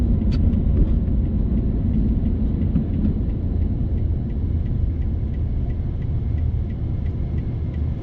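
A 2020 Lotus Evora GT coasting in neutral toward a red light on city streets, giving a steady low road rumble and drivetrain hum throughout, with faint repeated ticking above it and no voices.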